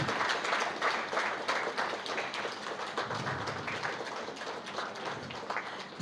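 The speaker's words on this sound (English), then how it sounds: "So let's have a round of applause," Audience applause at a legal conference on insolvency and bankruptcy, a steady wash of many hands clapping that fills the room evenly and continues for several seconds without voices.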